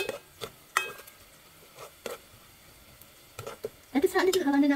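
Onions softening in a hot pan while shrimp black pepper is being prepared, with a few scraping stirs of a spoon and clinks against the pan, then a louder sizzle rising near the end, close and fairly quiet.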